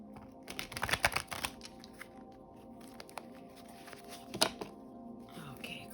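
Tarot cards are shuffled by hand in quick riffling, tapping bursts, close and soft, with quieter card handling between them.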